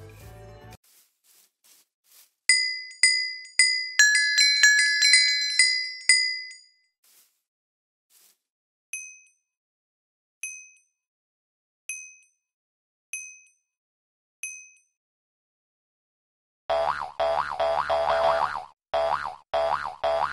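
XP blocks from the Mob Grinding Utils mod in Minecraft give a quick cluster of bright, glassy dings, then a few single chimes spaced apart. A louder rhythmic bouncy patter follows near the end, with no talking.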